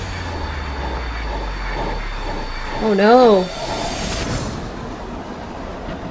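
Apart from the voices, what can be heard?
subway train sound in Scream 6 movie trailer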